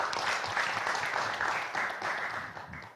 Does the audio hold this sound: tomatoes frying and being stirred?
no